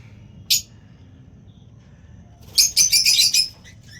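A pet bird in its cage, kept warm under a 100-watt bulb during bitter cold, gives one sharp chirp followed a couple of seconds later by a rapid burst of bright calls, heard close over a low background hum.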